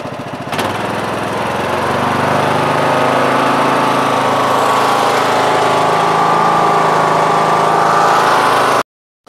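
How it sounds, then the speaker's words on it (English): A small engine on an MTD Yard Machines lawn tractor with a 20 HP Briggs & Stratton Intek engine runs steadily at close range, a loud continuous drone with a sharp start, then cuts off abruptly near the end. "This engine now runs really well too"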